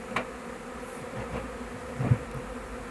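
Honeybees buzz around an opened hive while the colony is being divided frame by frame, a continuous close swarm hum with brief louder passes of individual bees.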